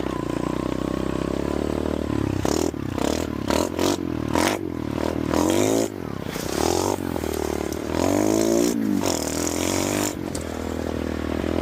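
A restored mini bike engine runs loud and close, revving up and down repeatedly in rising and falling sweeps, with rattling mechanical clatter throughout.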